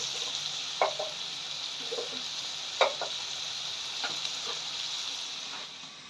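Spices softening in a pan for keema paneer give a quiet, steady sizzle, with a few soft scrapes and stirring knocks from a spoon, close by and with no voices.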